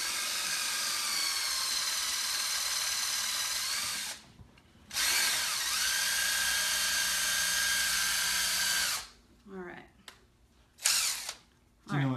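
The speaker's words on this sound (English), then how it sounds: "I'm just going to start a little pilot hole" A power drill starting a pilot hole whines steadily for several seconds, stops briefly, then runs again, followed by short bursts and rustling handling noises nearby.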